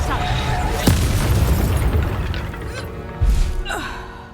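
A Reducto spell blast in the Hogwarts Legacy video game during a fight with an Ashwinder: a sharp bang followed by a rumbling roar, then a second heavy boom amid swooshing battle effects.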